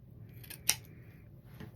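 Scissors make a single crisp snip while cutting a ribbon tail at an angle for a layered bow, short and close up in a quiet room.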